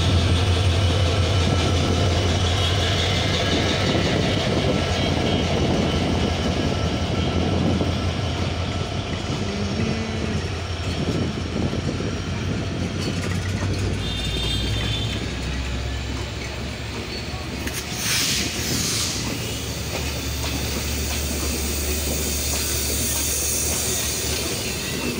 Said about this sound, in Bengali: দেখতে দেখতে কিন্তু 6606 লোকোমোটিভ এখন ছেড়ে দিবে